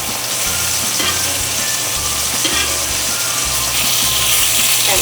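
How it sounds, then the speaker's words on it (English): Steak frying in a cast iron pan with butter and fresh rosemary, a loud, steady sizzle and crackle running without pause, close by, with no voices over it. "That is the sizzle you want to hear when you are pan frying in cast iron."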